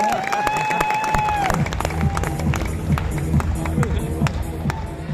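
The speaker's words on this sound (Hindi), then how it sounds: "इनके लिए भी जोरदार तालियां ना" Audience clapping at a business event with a celebrity guest, rhythmic claps and cheering over music with a steady beat, with voices mixed in.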